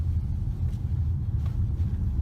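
Low, steady road rumble from a 2019 Mazda CX-5 driving through a tight roundabout in a full circle, a continuous near engine and tire drone with no talk over it.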